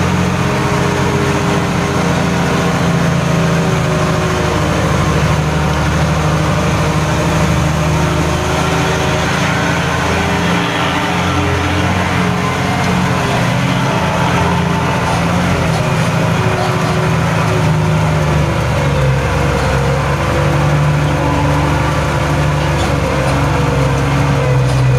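A Mitsubishi Fuso truck engine labours at low revs, a steady, heavy drone that holds close and loud throughout while it strains along a narrow village road in west Bandung.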